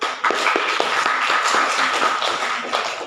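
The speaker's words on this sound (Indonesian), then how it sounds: "Kasih aplaus untuk kelompok 1." A classroom group claps for the first student group after a teaching-practice presentation: dense, steady applause with many overlapping hand claps lasting about three seconds.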